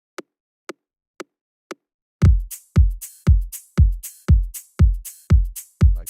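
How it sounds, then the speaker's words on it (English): A processed kick drum from a sampler starts as four sparse, faint short ticks, then hits hard and booming about eight times in a steady beat, each with a deep decaying thump and a crisp top. "that's what made the kick sound like this."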